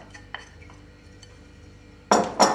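Young cabbage and radish salad tossed with dressing in a bowl, two short clattering scrapes of utensils against the bowl near the end after quiet faint clinks.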